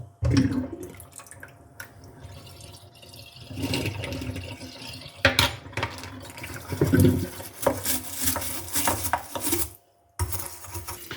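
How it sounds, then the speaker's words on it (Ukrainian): Running water splashes and gurgles with clinks of dishes as a kitchen sink drains, steady for several seconds, briefly cutting out near the end. "Водичку випускаю."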